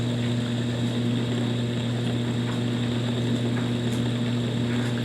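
A red fidget spinner whirs steadily in a continuous, even hum with a low buzzing drone, close and unbroken throughout, with no voices.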